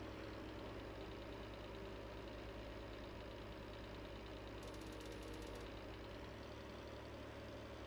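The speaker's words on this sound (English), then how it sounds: "I can hear that big fan whirring back there behind me." A tractor's cooling fan in Farming Simulator 19 whirs in a steady, continuous drone over a low engine rumble, with no voices present.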